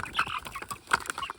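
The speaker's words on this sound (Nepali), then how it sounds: "साना भाले, पोथी, कुखुरा पनि छन्।" Chickens and roosters on a small farm, several close, overlapping clucks and short squawks in quick, irregular bursts.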